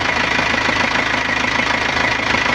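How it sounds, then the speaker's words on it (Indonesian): Nissan Panther diesel engine idling smoothly after assembly, a steady, fairly loud mechanical chatter and hum held evenly from start to finish with no talk. "Alhamdulillah untuk suara mesin oke, adem, halus."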